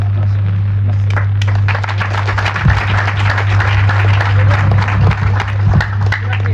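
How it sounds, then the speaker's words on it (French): Crowd at an official ceremony for a new sub-prefect applauds loudly and continuously close by, with a steady low hum underneath and scattered voices. "Des applaudissements encore plus forts"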